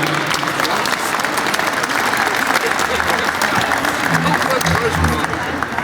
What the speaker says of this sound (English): How about a big round of applause for our great folks, our host here at Sodexo.